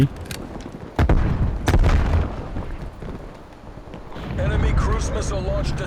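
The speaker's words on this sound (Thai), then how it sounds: "ระเบิดมารัวๆเลยว่ะ" Several heavy grenade booms in Call of Duty: Black Ops Cold War go off in quick succession, loud and close, with excited talking over them.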